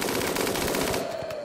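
Rapid automatic gunfire in the video game Rimworld, a short dense burst of repeated shots that tapers off toward the end.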